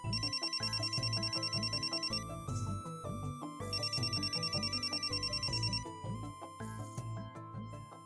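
A telephone ringtone plays repeatedly after a call is placed, a loud, melodic electronic ringing with a steady repeating pattern and no talk over it.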